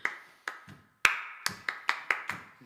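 Hand claps during a folk band's song rehearsal in a radio-show setting, about nine sharp, fairly loud claps in an uneven rhythm, each ringing briefly in the room, with no talk.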